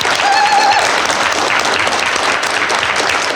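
A conference audience gives a big round of applause for the panel judges at a comics festival, a thick, sustained wash of clapping that fills the room from start to finish, with a brief whistle-like tone near the beginning.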